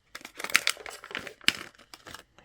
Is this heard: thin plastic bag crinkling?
yes